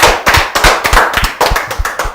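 An audience claps for a family being introduced at a gathering, a loud burst of close, irregular handclaps running steadily throughout with no talk.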